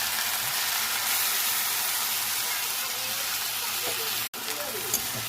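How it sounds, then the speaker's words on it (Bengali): Potatoes frying in a pan throw out a steady, loud sizzle and hiss close up. It stays dense and even throughout, broken by one brief dropout near the end. "সেরকম লাল লাল করে ভাজতে হবে।"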